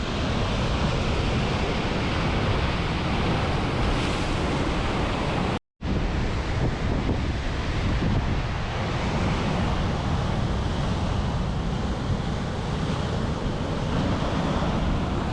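A loud, continuous roar of big North Sea surf breaking on the Scottish shore and wind fills the air, broken once by a split-second dropout before the rumbling wash resumes.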